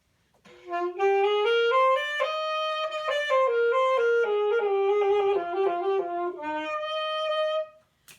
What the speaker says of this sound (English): That's what the alto sax sounds like.